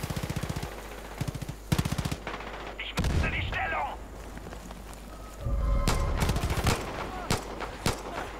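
Gunfire in the open-world shooter Far Cry 5: sharp, close automatic bursts and single cracks repeat through the scene, with a loud impact partway through and background game ambience, while someone speaks German over it.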